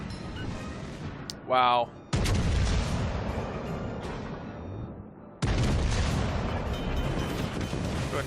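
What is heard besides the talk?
naval gunfire from New Mexico battleship, World of Warships Legends video game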